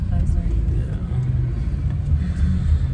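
A car rolls past with a low, steady road rumble that swells slightly near the end, close and fairly loud, with indistinct talk faintly underneath.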